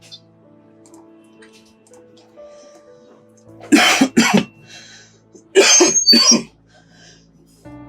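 Two short bursts of coughing, a pair of harsh coughs followed after a pause by another pair, close up against a quiet background.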